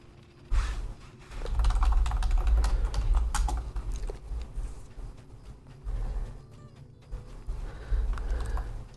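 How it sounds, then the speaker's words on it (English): Steady typing on a computer keyboard during a Lord of the Rings Online game stream, with rapid clustered keystrokes broken by brief pauses, close and fairly loud, with no talking. "It always feels weird when I'm just typing during a stream"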